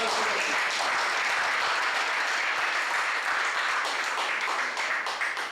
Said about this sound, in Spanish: Fuertes aplausos al compañero Roberto